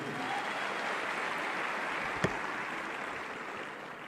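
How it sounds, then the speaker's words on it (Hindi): Steady, dense applause from a crowd in an auditorium, continuing evenly throughout with one sharp click near the middle. "एक बार जोरदार तालियां मेरे बड़े भैया के लिए"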